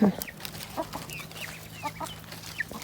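Several young chickens, grown chicks, cluck and chirp softly nearby in a garden, short scattered calls over a quiet outdoor background with a low steady hum.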